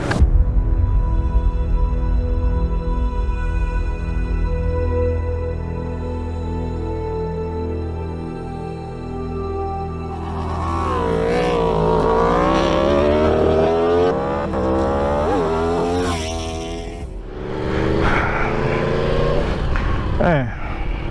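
Motorcycle engine while riding on a hot day, a steady low drone at first, then a rising, shifting engine note as it gets underway, with someone talking over it.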